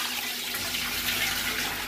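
About 8 cups of water poured steadily into a pot of fried oxtail meat while making stock for oxtail pulao, a continuous close rushing splash alone with no talk.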